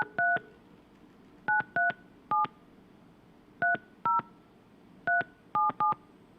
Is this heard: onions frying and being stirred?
no